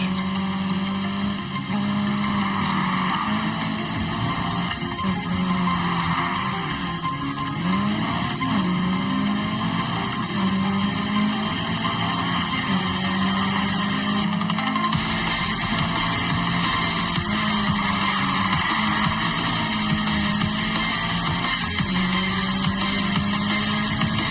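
Tires skid and squeal as a car drifts through corners in Need for Speed Heat, over a constant loud engine roar that swells and dips with each slide, with game music running beneath.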